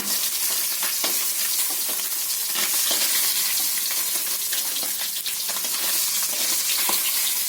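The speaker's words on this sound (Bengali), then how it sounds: "মাছটা আমার ভাজা হয়ে গেছে।" Rohu fish frying in a pan, a dense, continuous sizzle of hot oil crackling steadily and close up, with no talk over it.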